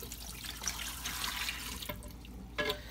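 Water running from a tap into a home aquarium tank being refilled after a partial drain, a steady close splashing stream with a brief louder gurgle near the end.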